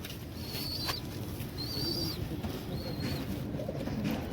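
Pet pigeons kept on a terrace coo softly while a few thin chirps rise above a steady low background hum, the calls coming in three short bursts spaced about a second apart.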